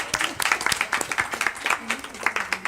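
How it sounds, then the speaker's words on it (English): Audience clapping for a group of girls at a film festival panel discussion, steady scattered applause for a few seconds with voices and chatter mixed in. "Let's clap for these girls."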